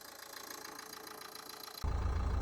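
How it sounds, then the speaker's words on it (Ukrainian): A 2012 Nissan Qashqai 1.5 dCi K9K diesel engine idles with a steady knocking rumble, then abruptly grows louder and deeper, as if heard from closer or with the hood open. "Двигун працює без зайвих шумів, так і має працювати."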